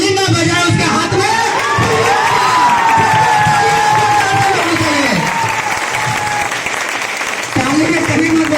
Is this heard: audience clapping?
yes